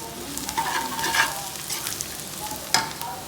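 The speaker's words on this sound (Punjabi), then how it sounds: "ਮੈਂ ਅੱਜ ਕੜੀ ਨੂੰ ਤੜਕਾ ਆਪਾਂ ਲੱਗੇ ਆ" A steady sizzle of tempering for kadhi frying in hot oil with stirring clinks, close and continuous, with no talking.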